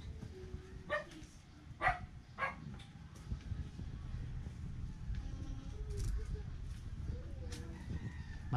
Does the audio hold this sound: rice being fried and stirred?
no